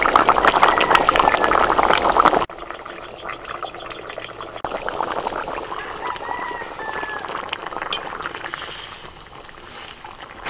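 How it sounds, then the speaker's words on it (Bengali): Water is poured into a pan holding fish, potatoes and beans for boiling, a splashing pour that stops abruptly, then a bubbling, sizzling wash resumes at moderate loudness. "এবার আলু আর বিনস কলাই সিদ্ধ করার জন্য একটু জল দিয়ে দিচ্ছি।"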